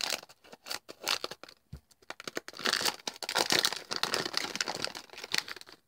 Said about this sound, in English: they don't have a tear strip, so we'll probably have to use the scissors